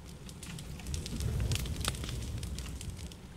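A campfire burning in the survival game The Forest, a soft, close crackling and popping over a low steady rush, fairly quiet and with no voices.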